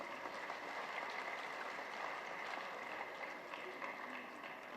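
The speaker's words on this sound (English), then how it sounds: "Can we have a great round of applause, please?" Soft, distant applause rattles on steadily, a crowd clapping at low volume without pause.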